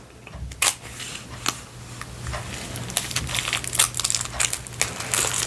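Plastic shrink wrap on a Polymathic artist playing card deck being cut open and crinkled, a string of close, crisp crackles and rustles with small sharp snaps, no talking.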